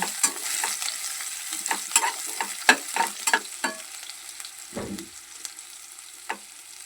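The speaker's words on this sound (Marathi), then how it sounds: "छान पैकी असा लसण टाकायचा। त्याला छान परतून घ्यायचं।" Garlic frying in a pan as a spatula stirs it, with a series of sharp scraping clicks over a low, steady sizzle.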